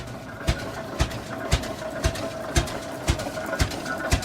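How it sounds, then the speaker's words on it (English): A 1912 Rumely F tractor's big single-cylinder engine fires in slow, evenly spaced beats about twice a second, each a sharp thump over a constant mechanical hum and clatter, heard outdoors at moderate distance. "Big one-cylinder engine."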